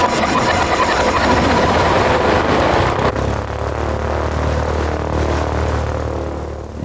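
A small propeller airplane engine runs steadily, close and loud, in the Yukon. The roar is broad and even, then turns somewhat quieter and duller partway through, with no talking.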